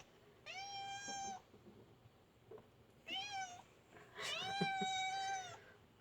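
A cat indoors gives three drawn-out, fairly quiet meows separated by pauses, the last one longest and most insistent.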